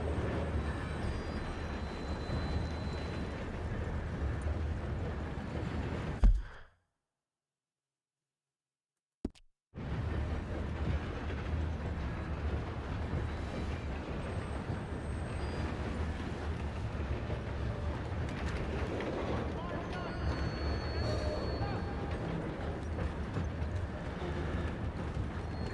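Continuous rumbling of a steam train ride in Red Dead Redemption 2, a steady low chugging roar that holds throughout, broken by a brief total silence before resuming at the same level.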